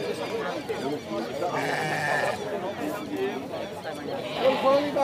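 Goats bleat over the bustle of a goat market in Surubim, Pernambuco, with holding pens nearby and several animals calling at once under steady crowd chatter and people talking.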